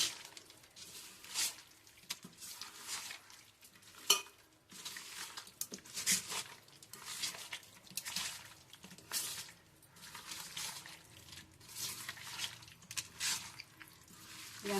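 A small-fish curry (katti parugulu pulusu) is stirred in a pot: repeated wet squishing and scraping, with occasional light clinks of a spoon against metal, fairly quiet and close.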